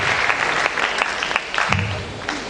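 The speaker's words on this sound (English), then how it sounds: "let's clap our hands together for ourselves." An audience at a space science and technology research programme event claps together, a steady mid-level round of applause with scattered sharper claps and a faint low murmur underneath.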